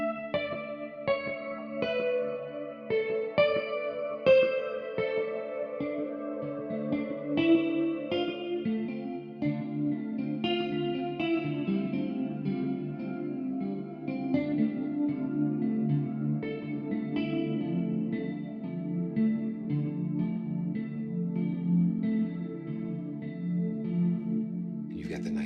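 A soft violin plugin (IREMIA Violin) and gentle piano plugins (SOFTSTRUCK, Sleep Piano) play slow sustained notes and chords through pedal board effects, with shimmering chorus, echo and reverb tails, steady at moderate loudness throughout.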